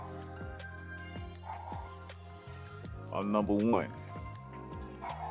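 Someone talks while dogs bark and yip nearby in short bursts, with a louder cluster of barks midway through.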